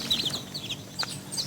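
A mother hen with her nine chicks, heard as a few short clucks and soft high chirps close by, scattered irregularly over a quiet background.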